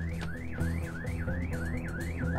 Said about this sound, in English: alarm still sounds